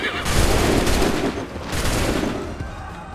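A loud, rolling musket volley bursts out in the Assassin's Creed 3 video game, with dense overlapping shots and booms. A second wave of fire follows close behind, fading into battlefield rumble.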